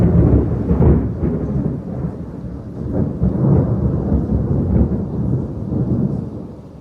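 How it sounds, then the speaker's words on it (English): Thunder rumbles on a stormy morning in Surfside, California, a loud, continuous rolling roar with swelling peaks, rain hiss faintly beneath, no voices. "comes the thunder."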